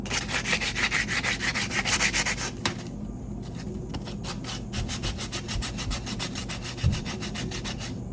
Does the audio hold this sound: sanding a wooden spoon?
yes